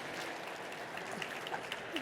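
An audience at a mental health session gives its speakers a warm round of applause, a soft, continuous patter of many hands heard from a distance at low volume.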